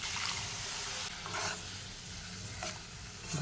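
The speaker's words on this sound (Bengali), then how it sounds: "ভালো করে মশলাটা আমি কষে নেব" A spice paste of turmeric, cumin and chilli powder with salt and a splash of water sizzles steadily in a pan, close up, with a spoon scraping and stirring through it in a few strokes and no talk.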